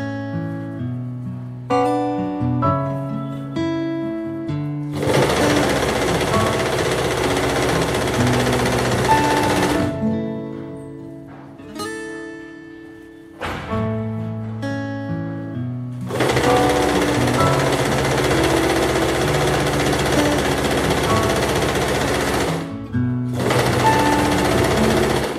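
A sewing machine runs in long steady stretches while stitching an A-line frock at a half-inch seam, with a loud continuous whir that stops and restarts several times and has soft musical tones in the gaps.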